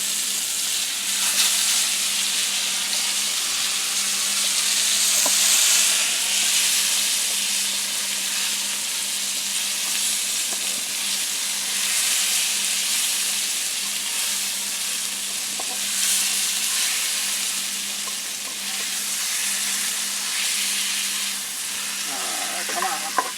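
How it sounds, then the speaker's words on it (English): Fish pieces, lightly floured, fry in a frying pan outdoors on a back step, giving a steady, dense sizzle and crackle that runs unbroken throughout, close and fairly loud, with no talking. "The other one I'm going to do in the frying pan."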